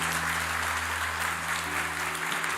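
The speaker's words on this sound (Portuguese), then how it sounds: "Você pode aplaudir ao Senhor por isso?" A church congregation applauds during a sermon, a steady wash of many hands clapping that stays fairly faint and even from start to finish, with a low hum underneath.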